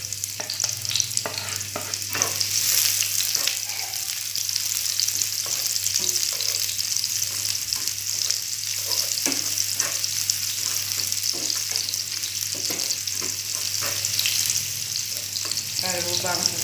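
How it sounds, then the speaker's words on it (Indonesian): Shallots frying and being stirred in hot oil in a pan, a steady close sizzle with scraping stir sounds throughout, part of a Balinese stir-fry of vegetables from Buleleng. "Pertama kita goreng bawang merah dulu."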